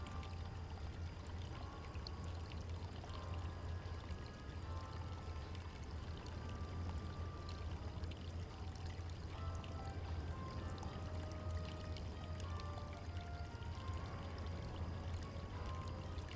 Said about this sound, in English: I filled the bottle with water from the fountain.